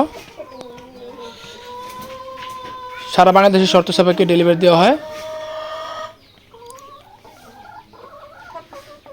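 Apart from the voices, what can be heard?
chicks of layer, Fayoumi, Misri and native chickens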